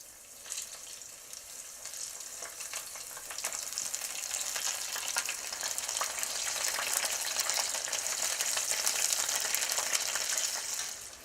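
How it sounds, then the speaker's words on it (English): Asparagus tempura fries in hot oil, giving a continuous, close sizzle with crackling pops that grows slightly louder and denser as it goes on, with no voices. "I'm frying up my last batch"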